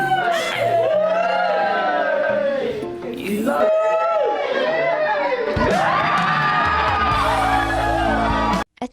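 Loud crowd cheering with shrill whoops, yells and children's shouts, sustained almost throughout, voices overlapping densely and close by, ending abruptly.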